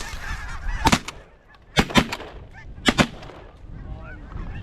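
Shotgun blasts during a snow goose hunt in Manitoba, three pairs of sharp, loud double shots about a second apart, with goose honking calls sounding between them.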